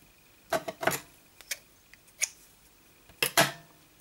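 Scissors snip crochet yarn while a rose flower is being made, with a handful of close, sharp clicks and snips arriving in small irregular bursts over otherwise quiet room tone.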